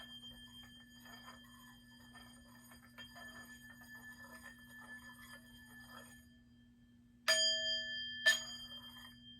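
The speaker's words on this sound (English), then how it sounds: "then you're going to chime the singing bowl" A singing bowl is struck twice near the end, each strike giving a bright sustained ring with clear overtones, after a stretch of quiet low hum and faint rustling, set within a crystal-cleansing ritual.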